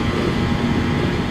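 A Ducati motorcycle races at high speed along a circuit straight, giving a steady, loud, unbroken rushing roar of engine and wind for just over a second.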